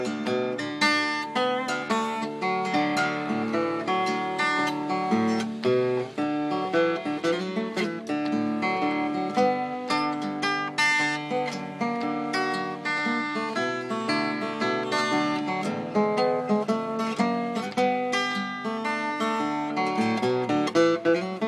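Vintage acoustic guitar fingerpicking in open D tuning plays steadily with ringing open strings and bright, rhythmic plucked notes, a solo instrument throughout.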